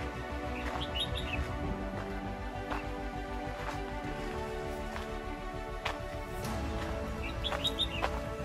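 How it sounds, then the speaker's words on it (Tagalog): Many birds chirp and tweet in repeated bursts along a hiking trail on the Oscar Trail at Estrada de Cheoc Van, fairly faint against a steady outdoor background, with no talking. "Ang daming ibon."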